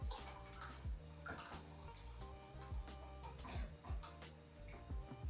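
Hydroponic nutrient is stirred into a container of water, giving soft sloshing with faint rhythmic knocks and clinks, quiet and close.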